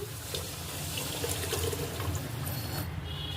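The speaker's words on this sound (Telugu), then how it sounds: "ఎసురు, ఆ ఎసురు ఇప్పుడు ఇందులోకి వేస్తున్నాను" Boiling water is poured into a pressure cooker while making katte pongal with moong dal and rice, a steady, continuous splashing pour close by with no talking.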